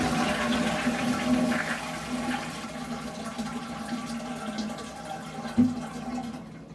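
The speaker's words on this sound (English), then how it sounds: "here's the toilet" A hotel-room toilet flushes, a rushing swirl of water that drains and fades into quieter refilling trickle, fairly close and alone.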